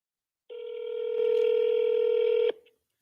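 A single steady telephone keypad tone sounds for about two seconds as a number is dialed, clear and close with no talking.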